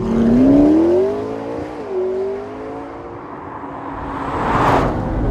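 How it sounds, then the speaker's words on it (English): A McLaren 650S with a 3.8-liter twin-turbo V8 drops a gear and accelerates hard, its engine note climbing, dipping at a shift, then rising again into a loud roaring whoosh near the end. "find a straight bit of road, downshift a gear or two, and then just"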